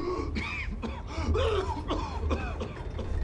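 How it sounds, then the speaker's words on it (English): Leon in the Resident Evil 6 demo coughs and wheezes several times in quick, raspy bursts over a low background rumble, with no clear speech. "When he's coughing"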